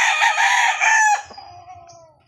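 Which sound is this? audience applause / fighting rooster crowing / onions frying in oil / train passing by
fighting rooster crowing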